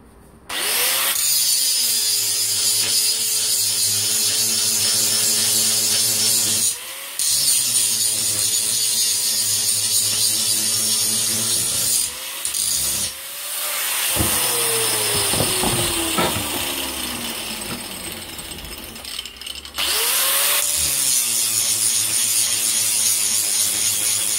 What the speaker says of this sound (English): there'll be a quick, hasty bit of grinding to change the angle on this gusset